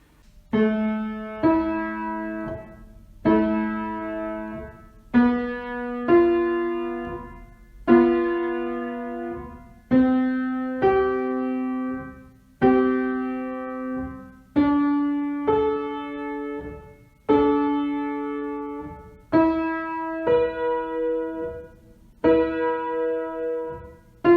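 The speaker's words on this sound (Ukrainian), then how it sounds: "Послухайте, як звучать квінти від усіх ступенів в ля мінорі натурального виду" About a dozen musical fifths built on each degree of A natural minor, played one after another at an even pace, each interval's two notes ringing together, then fading before the next.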